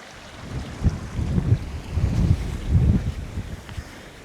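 Wind gusting across an open coastal path in Cornwall between Cape Cornwall and Sennen, coming as low rumbling buffets against the microphone in several surges, near and moderately loud, with no voices.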